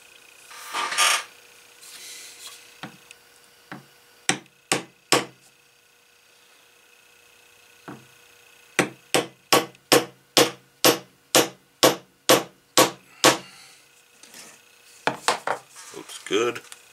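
A chisel is hammered to punch stitching holes in a heavy-duty leather belt, with sharp close mallet strikes, first a few scattered blows, then a fast even run of about a dozen, then several more.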